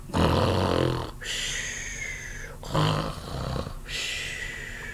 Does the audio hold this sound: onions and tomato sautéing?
no